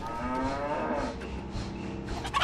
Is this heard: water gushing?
no